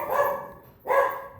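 A dog barks twice during a thunderstorm, two drawn-out, close barks separated by a short pause, with no other sound prominent.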